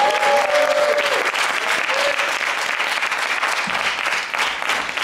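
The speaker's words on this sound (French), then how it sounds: "Merci, Emilio, on peut lui applaudir encore." A crowd applauds steadily in a hall, the dense clapping filling the whole clip at even volume, with a faint voice briefly showing through near the start.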